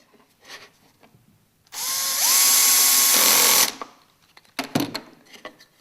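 A power drill drives self-tapping screws into a pocket hole joint, two close bursts of steady high whine lasting about two seconds, loud and up close, followed by a brief clatter.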